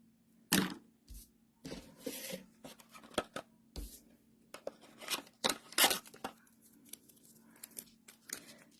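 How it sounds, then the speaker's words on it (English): Scissors trim the ends of a tied ribbon bow during card making, giving a series of quiet, crisp snips and small handling rustles in a hushed room. "snip the ends off."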